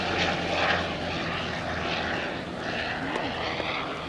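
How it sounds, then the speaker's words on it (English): A Sopwith Camel WWI biplane flies with a steady rotary-engine propeller drone, moderately distant and even in level, with no talk over it. "Wonderful aeroplane, made famous of course by Snoopy."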